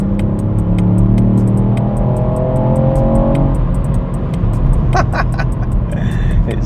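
A 2023 Ford Fiesta ST facelift hot hatch accelerates hard along a B road, its engine droning steadily and rising in pitch under a continuous loud road and wind roar.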